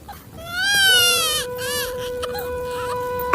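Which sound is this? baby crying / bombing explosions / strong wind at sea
baby crying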